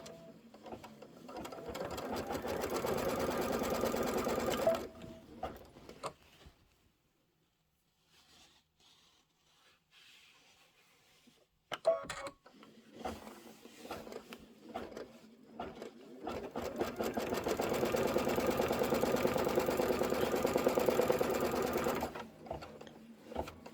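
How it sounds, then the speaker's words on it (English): A sewing machine stitches down a quilt border in close, loud rapid bursts, stopping for a quiet pause in the middle before resuming at full speed. "And let's stitch it down."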